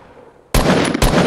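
Two sharp, loud gunshots close together in a first-person shooter video game, each a sudden bright blast, the first following a short quiet lead-in.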